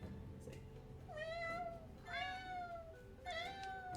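Hana the cat gives three drawn-out, high, kitten-like meows close by, each rising then trailing off, with a fainter chirp before them and quiet room sound between.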